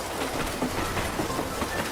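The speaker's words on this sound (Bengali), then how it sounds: "ট্রেনটা যেমন এসছিল তেমনই চলে গেল বৃষ্টি মাথায় নিয়ে" A train departing a station rumbles and clatters along the rails at steady volume, with a wash of rain hiss over it and no voices.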